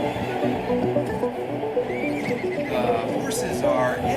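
Racehorses whinnying in a horse racing video game before a 2,000 meter class 4 race, several high, wavering neighs over a busy hum of hoofbeats and crowd-like murmur.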